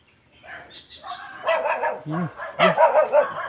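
A dog barks and yips several times close by, sharp and excited, with a few whiny notes between barks.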